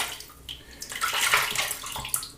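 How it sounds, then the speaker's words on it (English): Water running from a tap onto a shaving brush loaded with cream, a steady close splashing flow that swells and fades over a couple of seconds, with no voices. "Add a bit of water to compensate for the additional cream."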